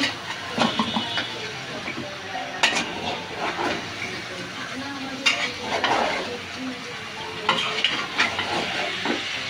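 Ash gourd pieces being stirred into a hilsa fish curry in a pan, with repeated scrapes and clinks of a spatula against the pot over a soft, constant sizzle.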